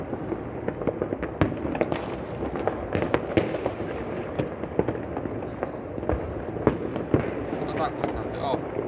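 Firecrackers and fireworks go off on New Year's night in 2019, a dense, continuous crackle of sharp bangs near and far, with a few louder close reports standing out throughout.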